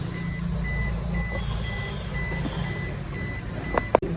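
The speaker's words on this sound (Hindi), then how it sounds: "साउंड विच इज इंटीमेटिंग कि आपकी कार बंद करने से पहले की ज़रूर लेके जाए" A 17-year-old Maruti Swift sounds its key reminder as it is switched off: a regular train of faint, high electronic beeps repeating at an even pace over low cabin rumble, then two sharp knocks at the end.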